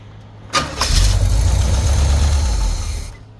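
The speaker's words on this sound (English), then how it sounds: "Let's see if it'll just crank over." An older Jeep engine cranks briefly and catches, settling into a loud, steady rumbling idle up close for a few seconds before it fades, with no talk over it.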